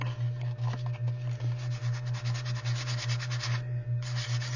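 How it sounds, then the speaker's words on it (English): Light hand sanding of glossy flashcard paper during a craft project, a steady rhythmic scratchy rubbing with regular strokes, close and alone under a constant low hum. "Just a real light sand."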